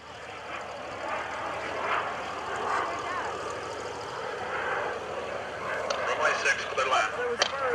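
An FLS Microjet small jet airplane drones steadily overhead at an airshow, a broad continuous roar that swells slightly toward the end.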